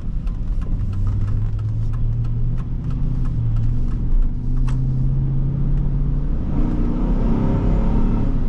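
A 2005 Chevrolet Suburban 1500 accelerating, heard from inside as a loud, continuous engine drone rising in pitch, then a gear change near the end; no talk.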